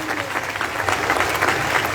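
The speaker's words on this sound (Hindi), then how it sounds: "सब तो पहला इस मौजज़े लई तालियां मार लिया सी जोर दी" A crowd at a Mother Mary pilgrimage in Mariam Abad claps loudly and continuously in a dense, steady burst of applause.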